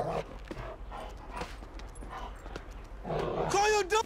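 Game dog attacking a man in Grand Theft Auto V, with growls and barks under steady game chatter and near shouting voices, rising into loud snarling and yelping toward the end.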